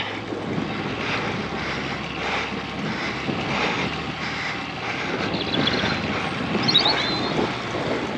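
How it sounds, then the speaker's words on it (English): Steady wind roars over the microphone during an outdoor road cycle ride on a century ride in Sussex, a broad continuous rush filling the whole stretch with slight swells and no talk. "Oh, can you hear the wind?"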